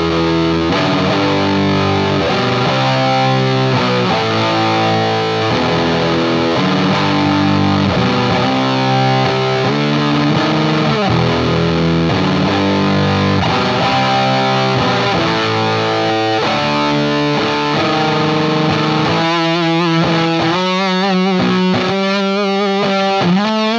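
Electric guitar through an FFX All You Can Boost pedal with its EQ set flat at center, playing thick overdriven chords and riffs, loud and continuous, ending in choppier strummed bursts.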